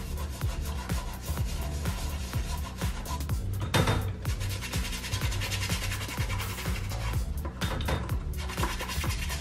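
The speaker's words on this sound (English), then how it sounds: "now I'm going to simply mix this mixture here and start applying" Cleaning paste mixed and scrubbed onto white shoes, heard as continuous close rubbing and scratching with rhythmic strokes and occasional clinks, without talking.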